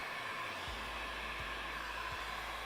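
A hair dryer blowing on leather scales for Viking-style leathercraft, a steady even whir that stays constant throughout, with a few faint low thumps underneath.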